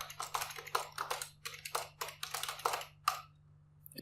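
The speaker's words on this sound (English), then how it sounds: "And I'm going to type" Rapid bursts of computer keyboard keystrokes, close and crisp, grouped into quick runs with short pauses over a low steady hum, then a single final key press after a silent gap.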